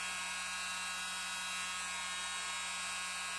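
A small mini blower bought from Amazon runs steadily, a constant high-pitched electric motor whine with a low hum, unchanging and close.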